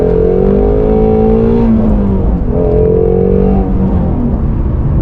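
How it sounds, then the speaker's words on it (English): Shelby GT350R with a 5.2-liter flat-plane crank V8, revving hard and close, its engine tone climbing, dipping briefly mid-clip, then climbing again over several seconds. "It just seems like it will rev forever"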